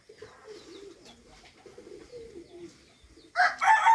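Pet pigeons of the Sirazi and Chika breeds at home coo softly and steadily at close range, followed by a louder burst of cooing and calls.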